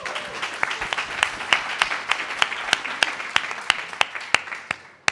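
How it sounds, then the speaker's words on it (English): Audience applause for a coffee panel discussion in Barcelona, a crowd clapping with sharp individual claps that stand out clearly over a steady bed of hands, keeping an even pace for several seconds before thinning slightly at the end. "Let's hear a big round of applause for your panel."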